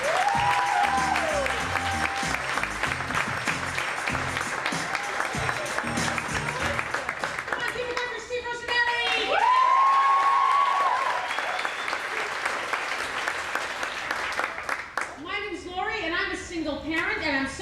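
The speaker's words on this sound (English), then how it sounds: "please put your hands together for our special guest tonight" A live audience applauds as a special guest is introduced at a comedy-style stage show, a sustained burst of clapping lasting most of the stretch with brief voices and other sounds mixed in near the end.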